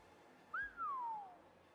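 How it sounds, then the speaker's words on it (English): A character in the video game Honkai Star Rail whistles one clear rising-then-falling note, a short chirp sliding into a long descending tone over faint background hum. "I love his whistles"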